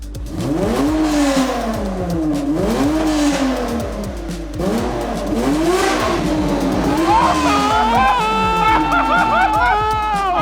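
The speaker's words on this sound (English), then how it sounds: "We kept revving and revving and annoying our neighbours" A car engine revs up and down repeatedly, rising and falling in pitch, loud and close, with a higher whine joining toward the end.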